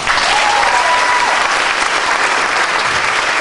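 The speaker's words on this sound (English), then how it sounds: "Big round of applause for an awesome cover." An audience at a Dancing With The Stars of Auburn event applauds after a dance routine, a dense, steady wash of clapping that holds at full strength throughout, with one brief whistle early on.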